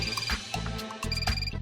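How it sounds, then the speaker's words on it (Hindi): Phone ringing in a Hindi TV comedy scene, a short electronic ringtone with repeated tonal bursts over a faint background, heard close and clear without talk. "फोन बज रहा है"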